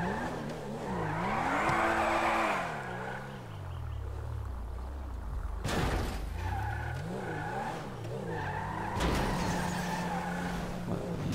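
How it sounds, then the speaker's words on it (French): A low sports car in GTA Online backing up a ramp, its engine revving and surging in rising and falling sweeps with tire squeal and skidding, loud and close, with no talk. "on va essayer de la monter en marche arrière pour voir."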